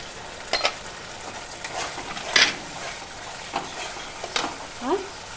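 Spice paste of chili, cumin and coriander powders with sugar and salt sautés in oil, a soft ongoing sizzle broken by scattered stirring scrapes.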